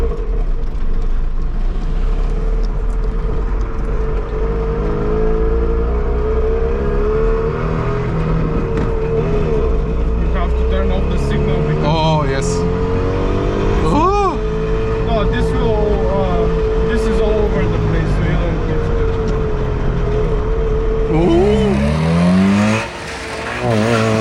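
Trabant 601S running while driving, a loud, close, steady engine drone that rises and falls through the gears, with a voice talking over it now and then.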